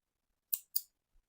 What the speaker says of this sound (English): Get some snips or scissors,